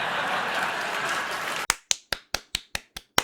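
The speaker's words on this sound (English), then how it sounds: "the audience clapped and I got a little distracted" An audience claps, first as a dense, steady wash of applause, then thinning to about eight sharp, evenly spaced single claps ringing out close and clear.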